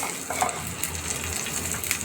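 Cumin seeds and green chilies frying in a pan for an okra dish, a steady close sizzle with light crackle and a faint clink of a utensil, no speech.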